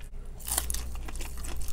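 Close crunchy bites into a crispy okoy fritter dipped in vinegar, a sharp crackling bite followed by several wet chewing crunches, no talk over it.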